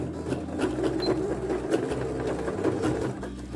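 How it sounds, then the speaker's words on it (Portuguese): A sewing machine runs at a steady pace, stitching bias binding along a folded fabric edge. The even mechanical whirr with its rapid needle rhythm stays close and continuous, with no talking. "joga a agulha totalmente para a esquerda e eu começo costurando bem"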